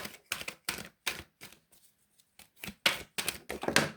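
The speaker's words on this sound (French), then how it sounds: "on va prendre quelques cartes de l'oracle des miroirs" Oracle des Miroirs cards being shuffled and handled, a rapid series of close, crisp papery snaps and flicks in irregular bursts with a brief pause in the middle.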